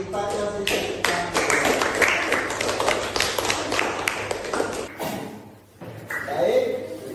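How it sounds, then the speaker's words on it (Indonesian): A classroom audience claps hands in a dense, steady burst of many overlapping claps lasting about five seconds, then stops abruptly, followed by a quieter stretch and a short later sound. "Oke, kita kasih tepuk tangan"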